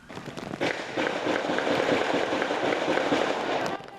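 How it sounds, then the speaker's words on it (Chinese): Continuous rapid gunfire at a hostage standoff scene, a dense crackling stream of overlapping shots that holds steady and loud for several seconds, with a few sharper cracks standing out. "9点18分，又搁出现连续的枪声"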